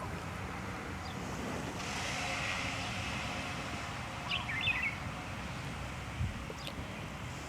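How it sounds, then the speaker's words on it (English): Gentle ocean waves wash onto a shore in Mauritius as a soft, continuous hiss and rumble in the background, with a few faint bird chirps near the end and no talking. "Hearing the gentle waves crashing in the background."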